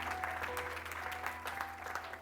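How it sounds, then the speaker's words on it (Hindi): Audience applause for a woman at a Christian church service led by a pastor, a steady wash of clapping from a seated congregation held at moderate level for a couple of seconds, with a low hum underneath. "तालियां बजाए बहन के लिए।"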